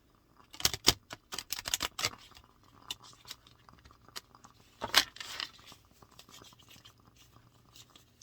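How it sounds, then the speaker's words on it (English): Stiff tarot cards are shuffled in bursts of crisp riffling and soft slaps, loudest in a flurry early on and again midway, then lighter flicking. "these are kind of hard to shuffle still"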